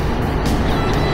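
Honda CB750 seven-fifty four-cylinder motorcycle on a ride near Rocamadour, a continuous low engine drone mixed with road and wind rush, steady and fairly loud, with no speech.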